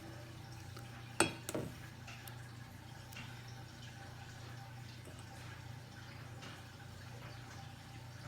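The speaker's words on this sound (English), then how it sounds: "I'm gonna clean off my spoon a little bit" A spoon used to mix fresh natural henna paste is wiped and knocked clean, with two quick close clinks near the start, then only a faint steady background hum.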